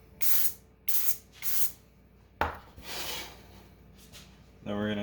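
Cooking spray is spritzed onto a pan in three short hissing bursts, followed by a longer spray, with some handling noise and a brief clatter at the end, close up.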